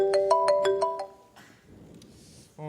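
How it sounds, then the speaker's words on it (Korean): A mobile phone ringtone goes off in a classroom: a bright, repeating electronic melody of several quick tones for about a second, then fading into room murmur, with a short tone returning at the end. "거기 벨소리 켜놓은 사람은 누구냐?"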